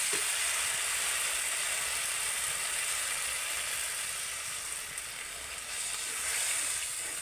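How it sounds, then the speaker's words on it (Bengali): Water poured into frying spices and oil in a pan, giving a continuous bright sizzle at moderate loudness that stays steady throughout with no talking. "এখন আমি মশলার মধ্যে জল দিয়ে দেব"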